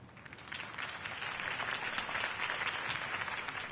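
Steady applause from a crowd, many hands clapping together, fairly distant and even throughout, with no speech over it.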